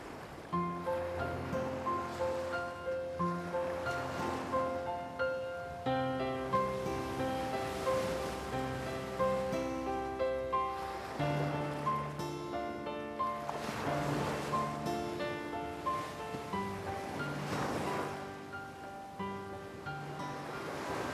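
Sea waves roll and surge in repeated swells, partly masked by a steady melodic music track playing over them throughout.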